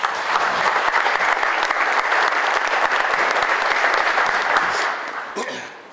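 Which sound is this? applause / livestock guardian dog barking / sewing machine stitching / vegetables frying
applause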